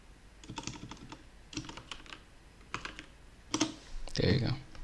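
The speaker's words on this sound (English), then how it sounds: "I can't type today." Quick bursts of typing on a computer keyboard, several clusters of close, crisp key clicks separated by short pauses, with a brief voice near the end.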